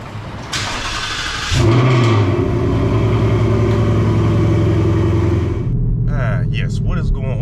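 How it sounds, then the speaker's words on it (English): A Ford Mustang GT S550 cold start: a short starter crank bursts into a loud, close engine catch and rev flare, then settles into a steady deep high idle, ending in quieter ambient noise. "let's go ahead and get that cold start"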